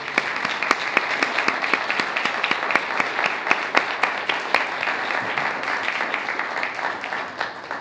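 An audience at a conference on Ignatian spirituality applauds continuously for several seconds, a dense, even patter of many hands with sharper individual claps throughout and no voices.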